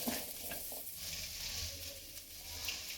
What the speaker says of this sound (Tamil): சின்ன வெங்காயம் இஞ்சி பூண்டு ஓகே எல்லாத்தையும் வதக்க போறோம்